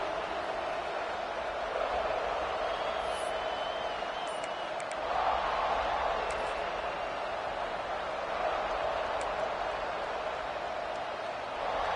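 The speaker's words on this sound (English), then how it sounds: "This crowd ready to make its presence known." Football stadium crowd at a UCLA game, a steady broad roar of many distant voices that swells slightly now and then, with no single voice standing out.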